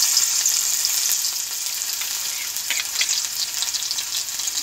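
Onion frying in hot oil in a heated pan, with a continuous bright sizzle and light crackle and occasional stirring, steady and close with no talking.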